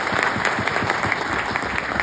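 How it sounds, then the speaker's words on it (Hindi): A crowd at a motivational business gathering claps loudly for a coach, giving a steady, dense burst of applause that stays at even strength throughout without pause. "आज मैं चाहूंगा मेरे ग्रेट मेंटर मेरे कोच के लिए जोरदार तालियां जरूर बजाएं।"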